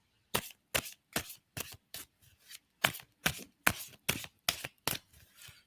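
A deck of playing cards shuffled by hand, about a dozen crisp close riffling bursts in a steady rhythm with brief pauses between them, alone without talk.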